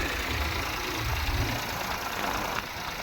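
A tractor engine runs steadily nearby in a village field during the summer farming season, a continuous low rumble and drone that holds level throughout with no talk over it.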